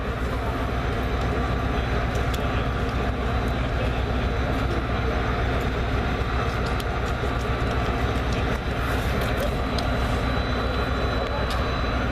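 Clinchfield Santa Train locomotives idling in Dante rail yard, a steady loud diesel rumble and drone filling the whole stretch, with faint crowd voices mixed in.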